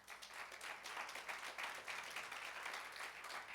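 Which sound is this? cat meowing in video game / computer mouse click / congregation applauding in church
congregation applauding in church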